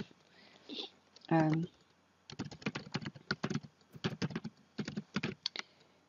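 Rapid clicking keystrokes on a computer keyboard as an if statement is typed in programming code, coming in close bursts separated by short pauses, with a brief stretch of speech near the start.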